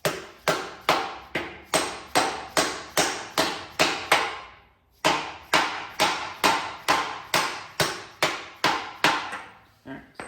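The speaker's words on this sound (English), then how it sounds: "So we're going to tap, get you a nice socket" A hammer strikes a socket in steady, evenly spaced blows to drive an axle seal into a Chevelle rear end. Each hit rings out loud and close, with a brief pause midway before the tapping resumes.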